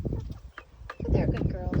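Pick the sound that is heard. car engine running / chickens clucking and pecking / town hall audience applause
chickens clucking and pecking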